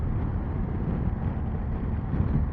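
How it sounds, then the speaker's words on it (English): Steady, dense rumble of wind buffeting and road noise while riding a motorcycle at highway speed, continuous and close with no talk. "it might be better with all the wind noise and the road noise and stuff"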